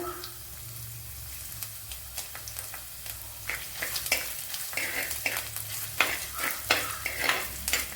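Chopped garlic and a small piece of ginger fry with fenugreek in hot oil for a Kerala sardine curry, giving a close, steady sizzle that grows busier partway through, with repeated scraping stirs and clatters.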